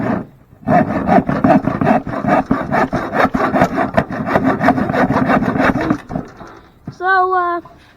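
An old hand saw rasps through wood in steady, rhythmic back-and-forth strokes, close and loud, followed by a pause and a short voice at the end.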